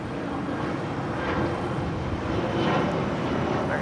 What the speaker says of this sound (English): Flight 321, departing to Las Vegas on an ERJ 135.